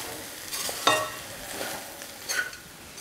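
Hot cooked rice being mixed with mango thokku in a bowl, with soft, irregular scraping and stirring sounds, a few brief louder strokes, and no voices.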